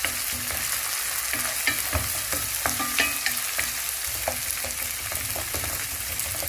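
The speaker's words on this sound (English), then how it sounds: "Ginger garlic paste. You mix it all together." Ginger-garlic paste frying in a pan while being mixed, a loud steady sizzle with frequent small scrapes and taps of the utensil, no one speaking.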